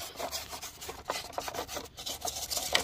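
Soft, steady hand scrubbing rubs grime and oil off a valve cover from a 2.0 L Hyundai Tucson or Kia Sportage engine, a close, quiet rasping that rises and falls in short strokes with no talk.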